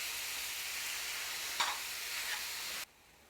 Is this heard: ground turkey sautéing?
yes